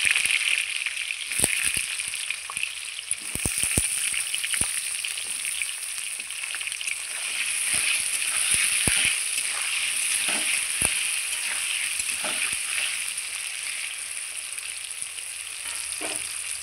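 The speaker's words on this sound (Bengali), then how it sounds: "আলুটা ভেজে নেব।" Potatoes fry in oil in a pan with a steady, close sizzle, broken now and then by clicks of stirring, and no one speaks.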